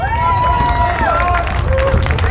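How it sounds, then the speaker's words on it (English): Crowd at a county fair pig wrestling event making noisy hubbub and cheering, with a voice over a loudspeaker and whistle-like tones above the continuous din. "Everybody cheer for the big bots"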